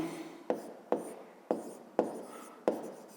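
A formula being handwritten for a fifth-grade maths exercise, pen strokes scratching across paper in several short bursts with sharp starts, close and quiet, no talk.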